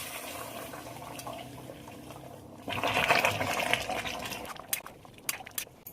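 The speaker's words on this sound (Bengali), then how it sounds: "আর এবার জল দিয়ে দেবো। জল দিয়ে দিলাম, গরম জল।" Hot water splashes into a pan of jackfruit and potato curry, a rushing pour that swells midway over a steady kitchen hiss, then a few small clinks.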